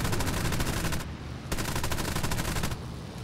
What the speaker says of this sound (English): Let's get within firing range and unload.